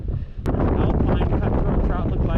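Cold wind buffets a microphone outdoors during trout fishing in the Rocky Mountains, a loud continuous roaring rumble with a sharp knock near the start and no voice heard.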